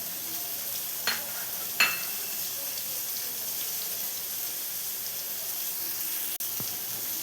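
Chopped shallots fry in hot coconut oil with a soft, constant sizzle, broken by a couple of light clinks and a brief knock from the pan.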